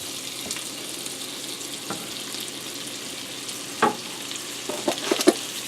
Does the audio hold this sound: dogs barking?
no